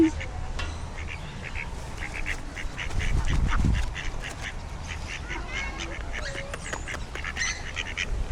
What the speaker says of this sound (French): Le canard.